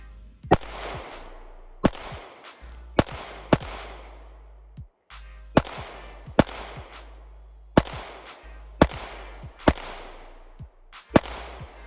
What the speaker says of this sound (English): I put about 10 rounds through here, and I gotta say that the shot is very soft.